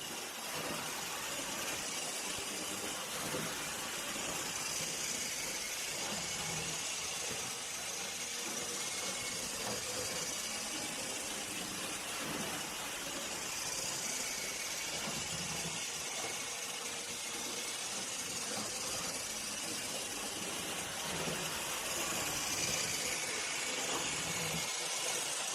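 A vintage HO scale 0-6-0 Rock Island model locomotive runs steadily, giving a continuous whirring, hissing motor drone with a faint rattle that holds even for the whole stretch.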